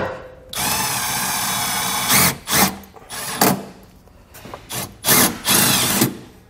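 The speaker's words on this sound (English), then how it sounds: "So now we're going to take two self-tapping screws, which come with the kit." A power drill drives self-tapping screws to mount a circuit breaker for a trailer brake controller kit on a 2018 Chevrolet, with a long steady whine followed by several short loud bursts, close up and without talk.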